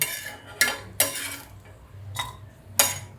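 Clinks of a metal utensil against a cooking pot while kokum water is poured in for bombil chutney, four or five sharp, close taps spread over a few seconds with quiet between them.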